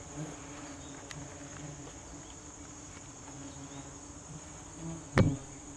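Hornets hover around several nests kept in a barn, making a faint, steady high insect drone that hangs in the background, broken by a soft thump near the end.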